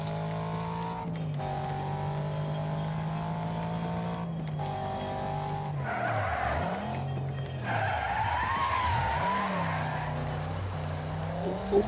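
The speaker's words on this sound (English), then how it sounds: "We have to brake a lot on these courses, almost like drifting" Race cars in Wreckfest roar and drift through a course, engines droning steadily while tyres squeal in long wavering screeches during the slides, continuous and close with no talk.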